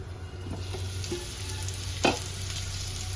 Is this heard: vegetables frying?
yes